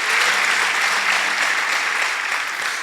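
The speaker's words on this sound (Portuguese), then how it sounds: "Você pode melhorar o seu aplauso?" A church congregation applauds continuously through a worship service, the dense clapping broad and sustained and fading slightly at the end, with a faint tonal hum beneath.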